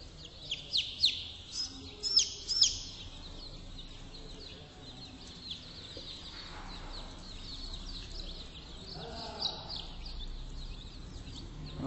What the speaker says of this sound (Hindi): माशाल्लाह बहुत एक्टिव चूजे हमारे